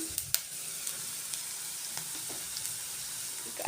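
Vegetables for gobi manchurian fry with spices in a pan, giving a soft continuous sizzle broken by a few light stirring scrapes and clicks, close by and fairly quiet.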